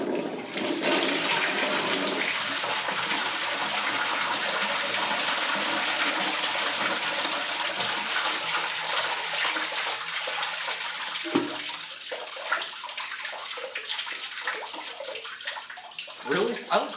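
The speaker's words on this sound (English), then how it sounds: "So, let's see if we can flush them down." A household toilet flushes pickles down in a loud, sustained rush of gushing water that slowly fades into gurgles and trickles, with a few clunks near the end and someone speaking briefly over it.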